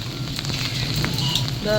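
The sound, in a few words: heavy cyclone rain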